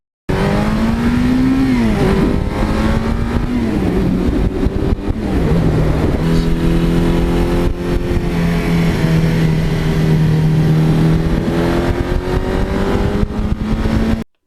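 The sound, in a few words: 1982 Suzuki GS1100E motorcycle engine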